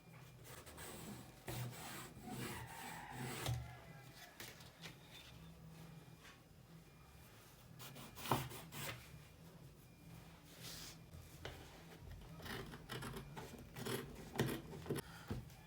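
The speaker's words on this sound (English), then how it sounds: "I'm done with the cutting of the sleeve" Scissors cutting folded fabric for the sleeve of an off-shoulder shirred top, a steady close rasping and rubbing of blades through cloth with a few sharper snips, quiet and without talking.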